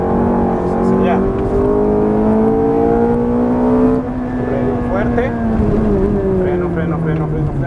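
A Ferrari F430 sports car accelerates on a track in Cancun, its engine droning with rising, steady harmonic pitch, briefly dropping and climbing again, loud and close throughout.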